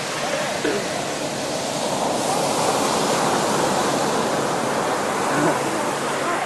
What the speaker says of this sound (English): The water's coming up fast.